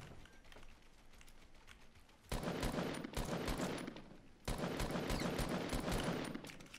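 Rapid gunfire from Fortnite, with loud bursts of shots in two clusters after a quieter stretch, crackling sharply and close up.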